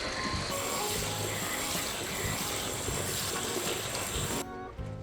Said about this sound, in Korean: 흐르는 물에 한 장 한 장 깨끗이 씻어서 준비해 주시면 되겠습니다